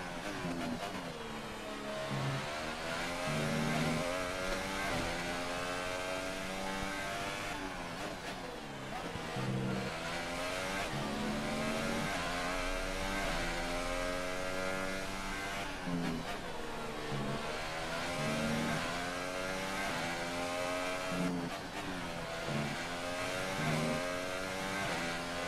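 Formula 1 car in the F1 2018 video game during Russia qualifying, its engine rising and falling in repeated revving pitch sweeps with gear changes, loud and continuous throughout.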